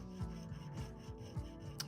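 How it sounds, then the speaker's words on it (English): A jeweler's hand saw cuts through silver sheet metal for a hammered silver ring, giving a steady series of close, rhythmic rasping strokes with no talking. "Moving your hand up and down in a consistent sawing motion and just keeping that blade at 90 degrees to the metal."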